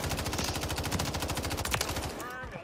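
Rapid automatic gunfire from a full magazine in Call of Duty on Rebirth Island, a dense unbroken stream of shots lasting about two seconds before cutting off, with a voice briefly speaking over it.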